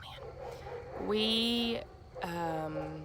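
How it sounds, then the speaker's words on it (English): Great Pyrenees dogs give two drawn-out, baying barks that carry over steady background noise, each lasting most of a second, with a brief spoken word nearby. "I don't know if you can hear the dogs barking right now."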